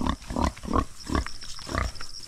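A loose pig on a farm grunts in a steady series of about eight low, close grunts, each short and rhythmic, and no one talks.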